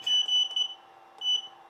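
A DDCS v4.1 CNC controller emits a high, steady electronic beep in two bursts, one long tone and a shorter repeat after a pause, loud and close with no talking.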